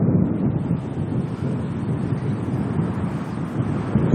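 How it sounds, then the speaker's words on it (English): Wind blasts against an outdoor camera microphone during snowy weather at an Auckland airport, a loud continuous buffeting rumble with no pauses and no voices. "Blowing around in the wind."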